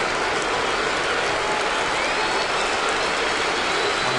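Crowd at Yankee Stadium cheering during a Red Sox at Yankees baseball game, a loud, continuous wash of roaring noise that holds steady throughout.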